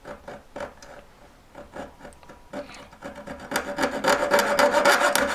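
Sandpaper rubs back and forth across a piece of wood being shaped into a spinning wizzer toy, in repeated close scratchy strokes that grow louder and denser toward the end.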